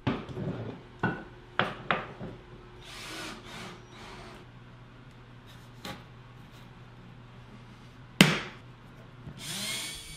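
A wooden door frame is assembled with 1¼-inch coarse pocket screws and wood glue. Scattered close knocks and clunks of wood and tools sound in a quiet room, with a short sharp drill-like burst near the end.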